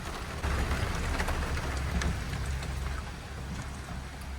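Steady rain falls outside on a wet, dreary morning in Pennsylvania, a constant even hiss with scattered drops pattering on surfaces, heard alone without voices.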